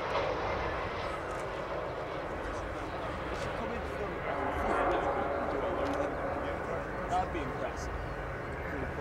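An Avro Vulcan B2 bomber, XH558, roars in a steady, broad jet rumble as it flies back toward the crowd at the Royal International Air Tattoo, with a commentator speaking over it.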